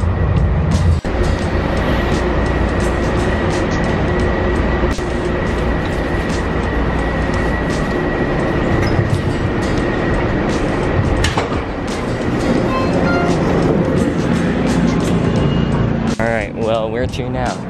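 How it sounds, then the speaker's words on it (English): A tram pulling into a stop, a continuous loud rumble of rail wheels and motor with a steady whine, voices and bustle mixed in, ending with squealing brakes as it slows. "All right, now we're waiting for the train."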